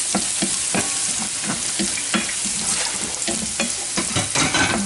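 Ginger and green chillies fry and are stirred in a pan for Kerala-style mango pickle: a constant close, loud sizzle with repeated scraping and clattering stirring strokes every fraction of a second.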